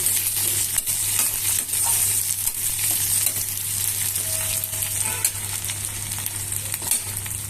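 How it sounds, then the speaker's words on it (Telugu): Hot oil sizzles and crackles loudly and continuously as a spice tempering fries, a dense steady frying hiss with faint scattered pops. "పోపు వేగిపోయిందండి"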